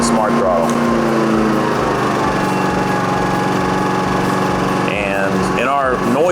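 Atima AY3000i portable inverter generator runs with a steady, loud, buzzing engine drone close by, under constant talk from a man and some chirpy tonal sounds near the end.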